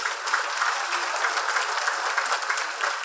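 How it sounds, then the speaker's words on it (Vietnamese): Audience applause at a motivational seminar on the power of the subconscious, a dense, even round of clapping that holds steady for the whole stretch. "Các anh chị hãy cho một tràng pháo tay để đi"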